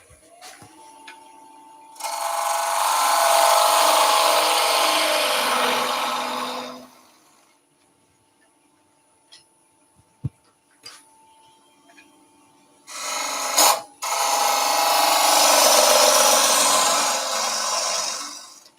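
A wood lathe cuts out the centre of an egg cup, loud broadband tool noise in two long bursts separated by a quiet pause with a few small knocks.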